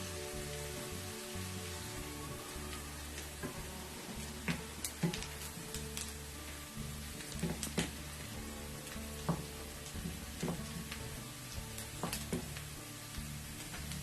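Onions sizzle steadily in hot oil for a lamb balti gosht, a dense continuous frying crackle with scattered sharper pops and occasional stirring scrapes, close and even throughout with no talking.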